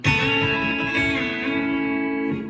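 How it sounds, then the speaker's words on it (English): An electric guitar with a B-bender picks notes that blend into a ringing chord, bright and close, sustaining for a couple of seconds before fading. "I'm going to do more of a picking pattern"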